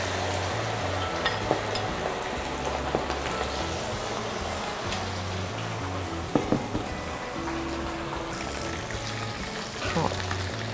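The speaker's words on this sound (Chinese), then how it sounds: "我们现在要给它油锅差不多了，我们可以给它放下去炸。" Small pork ribs deep-fry in a wok of hot oil for orange-juice spare ribs, giving a steady, dense sizzle and crackle that runs evenly throughout with no talk.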